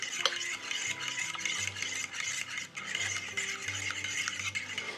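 Buttermilk being quickly mixed into flour batter in a bowl, soft close stirring and faint utensil clinks and scrapes, quiet and without talk.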